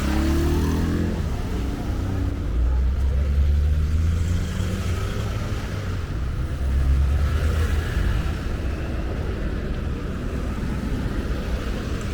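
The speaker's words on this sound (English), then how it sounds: "traffic goes on and on and on for miles" Road traffic rumbles by at the Paraguay–Brazil border, with cars idling and creeping forward in a long queue; engines drone steadily and loudly throughout, swelling slightly at intervals, with no voices.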